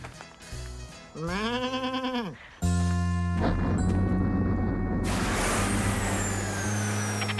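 One wavering sheep bleat rings out, then a loud rumbling roar with heavy hiss takes over and keeps going.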